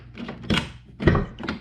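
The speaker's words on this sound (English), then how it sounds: "Let's make sure the door works." An old truck door, on a 23-year-old truck, is opened and then shut, giving two solid close thunks about half a second apart, with faint rattling in between and no talking.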